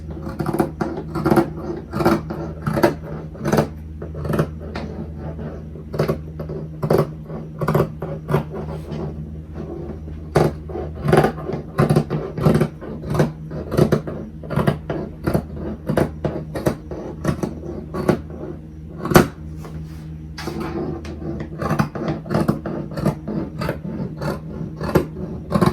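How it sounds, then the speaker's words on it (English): Scissors cut through t-shirt fabric, with close, rapid crisp snips and rasping fabric sounds repeating at an uneven rhythm throughout, with no talking. "Now we're going to go ahead and cut."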